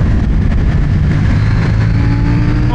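A CFMOTO 800NK motorcycle engine roars loudly and close, revving continuously with rising pitch as the bike accelerates hard on a riding session.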